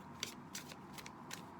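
Tarot cards are shuffled by hand, four or five quiet, crisp riffling bursts spaced roughly evenly apart, faint and close with no voices.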